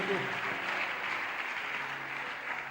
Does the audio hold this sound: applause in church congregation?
yes